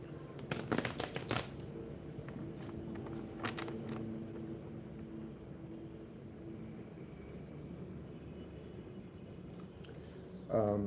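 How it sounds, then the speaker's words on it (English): A deck of tarot cards is shuffled by hand: a quick flurry of crisp riffling bursts near the start, then a quiet background, all faint and close. "So in shuffling the tarot,"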